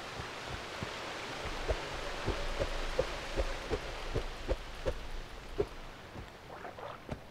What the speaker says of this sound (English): it's daytime with rain